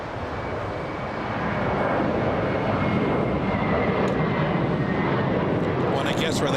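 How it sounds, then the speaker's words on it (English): A JetBlue jet airliner takes off at LAX, its broad engine roar building over the first two seconds and then holding loud and steady, with a faint whine high above the rumble. "Okay, we'll go for the takeoff. We'll go to JetBlue on the roll flying to New York."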